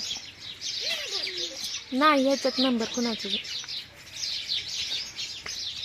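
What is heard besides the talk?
sparrows chirping in tree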